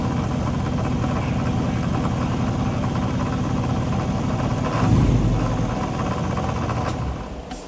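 A Whipple-supercharged 2023 Chevy ZR2 idles with a steady, rumbling drone and faint knocking vibration, then rises briefly before being switched off, the sound dying away in the final moment.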